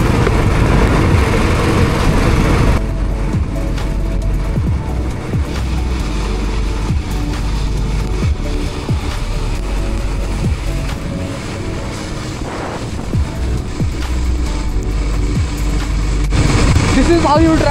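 A Bullet motorcycle is ridden through heavy rain on a road to Kas Pathar near Bamnoli, its steady engine drone buried under a constant roar of wind and rain that barely changes for the whole stretch.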